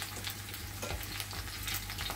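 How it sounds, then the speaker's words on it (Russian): Sauce for cabbage rolls, thinned with cabbage cooking water, bubbles and sizzles steadily in a pan while being stirred, with a continuous close frying hiss and soft scraping throughout. "Перемешу."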